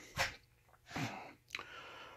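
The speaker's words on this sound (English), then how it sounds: "Creating dust, I'm sneezing." Sneezing set off by dust while sorting a box of model-railway junk, three short faint bursts of breathy sneezes and snorts spaced across a quiet room.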